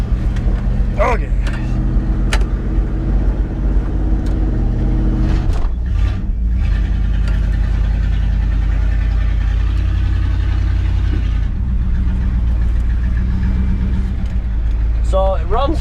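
A Dodge Charger engine runs steadily at idle throughout, a loud continuous low rumble with a brief rev swell partway, and people talk over it.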